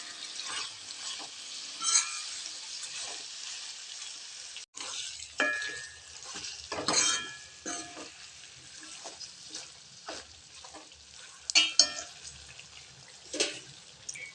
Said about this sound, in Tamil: கறியோடு சேர்ந்து இது நல்லா வதங்கி வேகட்டுங்க.